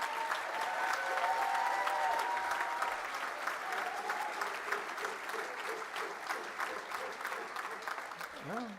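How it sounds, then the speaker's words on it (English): A large graduation audience claps and cheers for university staff, with dense sustained applause and raised voices filling the space and easing slightly toward the end. "could you give them the biggest cheer?"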